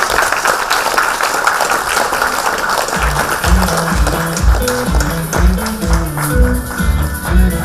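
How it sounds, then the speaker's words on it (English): A room full of people applauds for Gopi at the TiE Bangalore Spirit of TiE Trailblazers Award, steady dense clapping with a rhythmic thumping beat joining partway through. "let's have a round of applause for"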